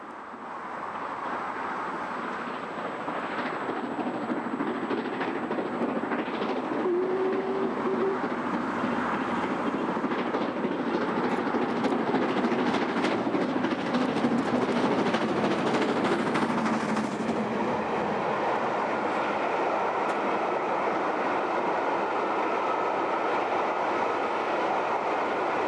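LMS Stanier Pacific steam locomotive 46203 Princess Margaret Rose hauling a rail tour train back to Crewe, a steady loud rumble of rolling coaches building and passing close by for about 25 seconds, with no talk.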